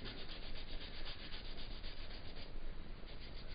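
A canary wood shell prepper is rubbed to a shine in a workshop, giving a faint, continuous close-up rubbing and swishing friction, alone with no voices.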